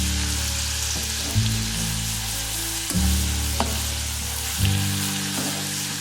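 Sauce ingredients frying in a pan for a bream dish, a loud steady sizzle broken by three sharper bursts as the food is stirred or tossed.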